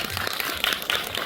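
A theater audience claps during a talk event, a short burst of dense, close applause.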